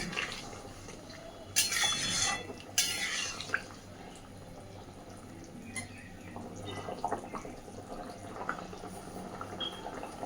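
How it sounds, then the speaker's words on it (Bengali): Rohu fish curry with potatoes boils in a pot, a faint, steady bubbling simmer broken by a couple of louder, brief hissing bursts near the start. "দেখুন খুব সুন্দরভাবে সব কিছু ফুটতে শুরু করেছে।"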